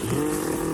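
A Beaver 45 quart ice chest cooler rolls along on its wheels with a steady, engine-like rumbling hum, close and fairly loud, alone for under a second.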